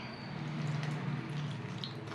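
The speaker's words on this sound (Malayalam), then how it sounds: "കുറേശ്ശെ കുറേശ്ശെ വെള്ളം ഒഴിച്ചിട്ട് കൈകൊണ്ട് നല്ലപോലെ ഇളക്കി യോജിപ്പിക്കണേ" Dough for banana fritters kneaded by hand in a bowl as water is added bit by bit, giving soft, wet squishing and faint dripping with no talk.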